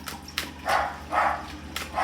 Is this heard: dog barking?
yes